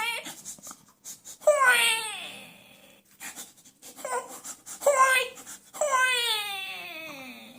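A voice imitates a small child crying, a series of close, wavering wails and whimpers broken by short pauses.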